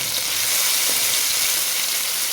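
Garlic, onion and tomato frying in olive oil in a pan, a continuous bright sizzle and crackle that stays steady and close, with a faint stirring knock near the start.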